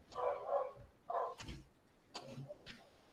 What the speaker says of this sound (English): dogs decided to fight right now